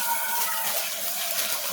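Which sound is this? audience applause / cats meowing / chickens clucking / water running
water running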